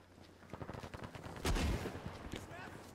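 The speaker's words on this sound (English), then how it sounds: "Using the M1 Garand." M1 Garand rifle gunfire in the video game Battlefield 5, a rapid series of sharp cracks amid distant battle noise, with one heavy nearby blast at mid-clip, followed by more scattered shots.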